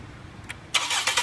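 A 2010–2013 Ford Transit Connect engine, just fitted with a new motor mount, comes to life partway through after a quiet lull, with a loud, steady rumble that stays close for the rest of the clip.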